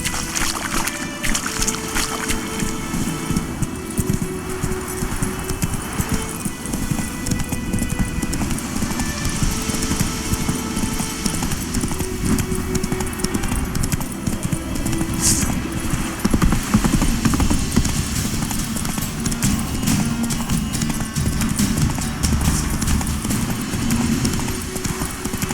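Roach the horse gallops in The Witcher 3, a fast rhythmic clip-clop of hooves running continuously over a steady backdrop of game ambience and rushing wind.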